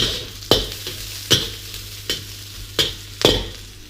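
Stir-frying in a hot wok, with a spatula scraping through the pan in regular strokes about every second over a steady, loud sizzle, close and with no voices.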